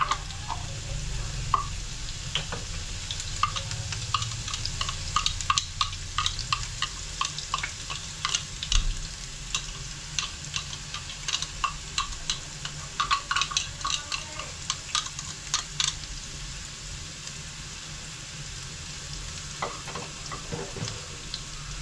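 Garlic sautés in a pan over a butane stove, with a steady close sizzle and frequent light clicks and scrapes of stirring running throughout.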